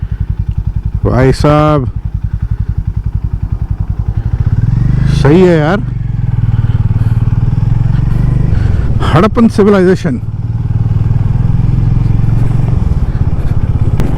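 Engine of a Hero Mavrick 440 motorcycle, a 400cc-class bike, drones steadily at low pitch while riding, with someone talking loudly over it in several stretches.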